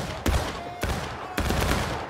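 Independent musket fire in an American Civil War video game, with three sharp loud reports at uneven intervals over a dense crackle of scattered distant shots.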